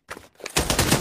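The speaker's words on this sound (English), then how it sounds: "he's shooting at me" Rapid automatic gunfire in the VR shooter Pavlov during a gun game match, a loud burst of close shots rattling out after a brief quieter pop, with no talking.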